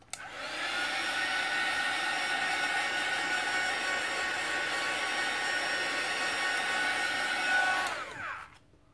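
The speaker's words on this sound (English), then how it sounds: "maybe just to be careful, I'll give it a blast with my heat tool." A craft heat tool blasts hot air over an acrylic-painted art journal page, switching on with a click into a steady, close whooshing roar with a faint whine that runs for about eight seconds before cutting off.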